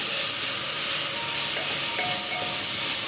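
Spice powders sauté in a pan over a medium flame for Kerala duck curry, giving a steady, soft sizzling hiss with faint scraping, close and continuous with no voices.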